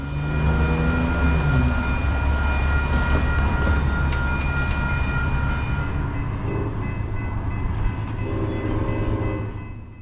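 New York Central Heritage Unit 211 locomotive shoving a Metro-North passenger train over a road crossing: loud close rumble of rolling cars and engine drone, with steady crossing-bell tones ringing throughout, fading slightly at the end.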